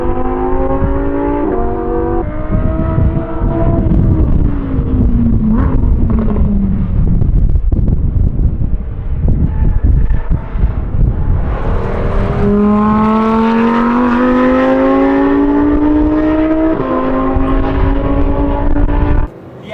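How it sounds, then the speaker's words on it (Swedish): A Lamborghini Huracan STO V10 engine lapping a race track, loud and continuous, revving up through the gears, dropping in pitch into a corner, then climbing hard again on acceleration, with wind buffeting the microphone. "Låt oss lyssna på det magiska ljudet från V10 under mina varv på banan."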